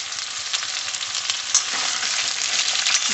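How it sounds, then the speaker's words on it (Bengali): Bottle gourd pieces frying in spiced oil, a bright, continuous hiss of sizzling close by, with small pops scattered through it. "দিয়ে লাউগুলোকে আমি খুব ভালোভাবে তেলের সঙ্গে কষাতে থাকবো"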